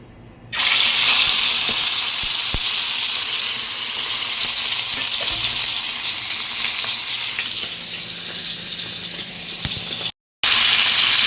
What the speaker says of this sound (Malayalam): മാറ്റി വെച്ചിരുന്ന ചിക്കൻ നമുക്ക് ജസ്റ്റ് ഒന്ന് ഫ്രൈ ചെയ്തെടുക്കാം